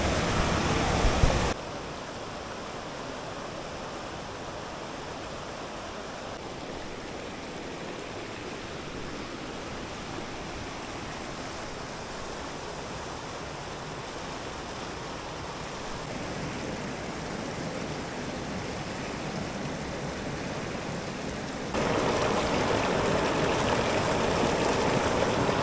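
Clear mountain stream near Saspol village flowing steadily, a close, continuous broadband rush of water with no voices, holding an even level and swelling slightly louder near the end.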